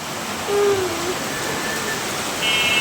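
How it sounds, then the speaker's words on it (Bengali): Heavy rain pours steadily in a dense, even hiss, with a faint tonal call briefly rising above it near the start. "অনেক বৃষ্টি হইতেছে, অনেক বৃষ্টি"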